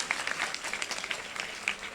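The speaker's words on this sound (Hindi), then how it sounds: "सभी जोरदार तालियां बजाएंगे खुदा के कलाम के लिए।" Applause from a large audience at an outdoor prayer meeting in a ground, a dense, even wash of clapping heard from a distance for a couple of seconds, with faint voices underneath.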